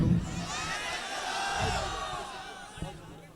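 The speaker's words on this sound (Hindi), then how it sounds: "जनाब इमरान प्रतापगढ़ी माइक पर तालियों की गूंज में इस्तकबाल" Mushaira audience in Bhatuamau, Barabanki greeting poet Imran Pratapgarhi with applause and cheering, a broad crowd roar with shouts and whoops, voices mixed in throughout.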